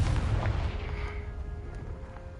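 Confringo fire spell exploding in a Hogwarts wizarding video game, a single heavy boom at the start that rolls off into a fading rumble and crackle.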